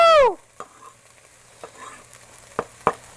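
Minced garlic and onion sizzle softly in a pan for a plant-based Thanksgiving dish, with a brief loud burst at the start and a few sharp scraping stir strokes against the pan afterwards.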